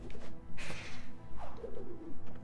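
A bird in the Ori and the Blind Forest video game gives a few soft cooing calls over a steady game soundscape, with no talk.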